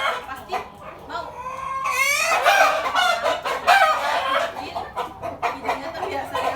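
Farmyard chickens cluck busily in a noisy, close burst of overlapping calls, with a crowing-like cry rising among them and a voice faintly mixed in.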